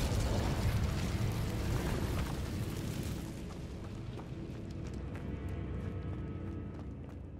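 Incendio fire spell in a video game: a loud whooshing eruption of flame bursts out at once, then fades over a few seconds into a sustained crackling rumble with scattered small pops.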